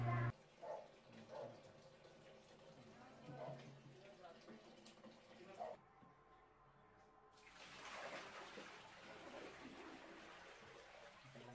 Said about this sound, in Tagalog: Tapos buhusan natin isang timbang tubig.